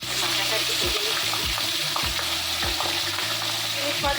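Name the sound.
frying egg fritters (bora) with chili, onion, turmeric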